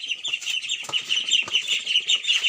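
Several hungry hens and chickens cluck and chirp close by, with a steady stream of overlapping calls and no voices.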